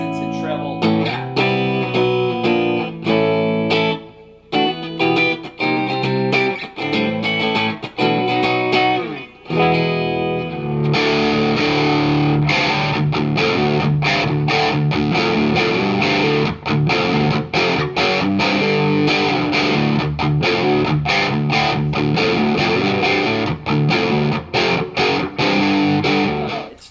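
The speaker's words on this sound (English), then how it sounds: "It's got the amazing lower driven tones for Telecasters and Strats." An electric guitar played through a Wangs Amps HD-15 amplifier with a driven, overdriven tone rings out in sustained chords. Rhythmic strummed passages follow, loud and continuous with no pauses for talk.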